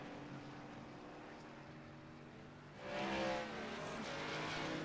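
ARCA stock race cars at Watkins Glen run close together on track, a steady engine drone that swells into a louder rising roar partway through and then holds. No one speaks.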